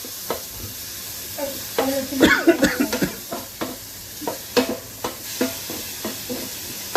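Food is sautéed and stirred in a pan before yogurt is mixed in, a close sizzle under repeated scraping and clattering stirring strokes in uneven bursts, with no talk.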